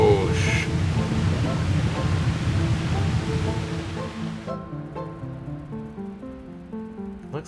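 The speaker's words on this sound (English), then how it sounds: "Looks like it triggered some sort of water release valve." In a video game, a triggered water release valve sends a loud, steady rush of water gushing for about four and a half seconds before it cuts off abruptly, leaving quieter tonal game sounds.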